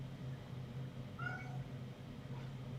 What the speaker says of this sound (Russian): Кошка на улице хочет.